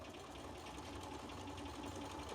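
A sewing machine stitching quilt pieces for a quilt-along, a fast continuous mechanical whirring chatter, close and steady throughout.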